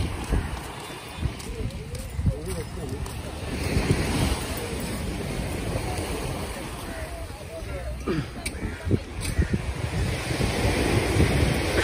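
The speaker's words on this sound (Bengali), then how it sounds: "ঢেউটা অনেক বেশি কারণ নর্মালি তো এরকম ঢেউ হয় না" Ocean surf breaking steadily on an Indonesian beach, a continuous rushing wash with wind noise on the microphone and swells of louder breakers, while voices talk intermittently nearby.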